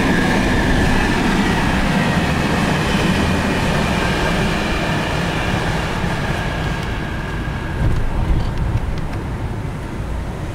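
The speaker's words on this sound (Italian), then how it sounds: "Ecco il treno, eh!" A train passes on a line toward La Spezia near Migliarino and Torre del Lago, a loud steady rumble of rail cars rolling by at close range with faint wheel noise, heard from a road with no talking.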